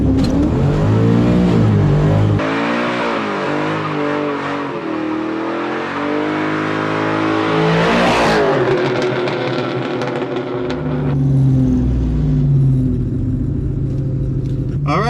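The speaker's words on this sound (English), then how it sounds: "I'm gonna have to get a little heat in the tires." A 1997 Mustang Cobra's engine revs hard and loud as the driver heats the tires before drag runs. The roar holds steady, drops back, then surges again, close to the car throughout.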